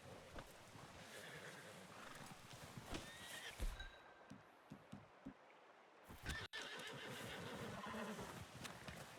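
In a video game, a horse whinnies and neighs loudly while hooves clip-clop nearby, with a brief pause before the hoofbeats and ambient noise return.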